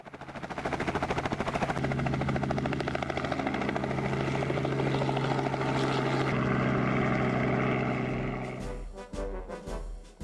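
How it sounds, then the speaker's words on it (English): Aircraft take off on an early May evening, with a loud, steady propeller-engine drone and throbbing rotor pulse held close for several seconds, then fading into choppy wind buffeting. "Early evening on the 20th of May 2010, and both aircraft take off."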